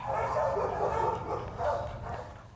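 A dog at an animal shelter gives a run of mid-pitched barks and yips, close and fairly loud, repeating steadily throughout.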